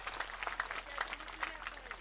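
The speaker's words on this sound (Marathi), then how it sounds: "पुरुषांनी टाळ्या वाजवल्या" Men in a political rally audience clap, a dense steady patter of many hands sustained throughout at moderate loudness, with a public-address voice mixed in.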